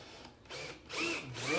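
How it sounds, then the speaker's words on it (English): A drill with a 3/16-inch bit whirs in short bursts drilling out a rivet, its motor pitch rising as it spins up, close by and moderately loud. "grab your drill, the 3/16 inch drill bit."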